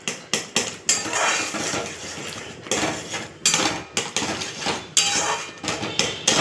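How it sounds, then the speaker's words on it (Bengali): A utensil stirs pumpkin chutney with tamarind water in a cooking pot, making repeated close metallic clanks and scrapes in an uneven rhythm, with no talk. "নাড়াচাড়া করে দিচ্ছি।"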